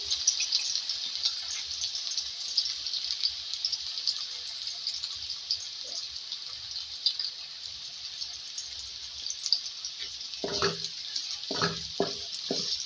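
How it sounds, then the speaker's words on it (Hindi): Three medium onions fry in hot oil for a desi beef keema, giving a steady bright hiss that continues throughout, with brief stirring knocks near the end. "ऑयल गरम है, इसमें प्याज डालेंगे 3 मीडियम साइज़ की और इसको फ्राई करेंगे।"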